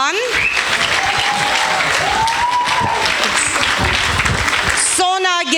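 A vocal studio audience claps loudly and steadily for the performers, a dense wash of applause running without a break while a voice speaks over it. A brief tonal, sung or musical sound enters at the very end.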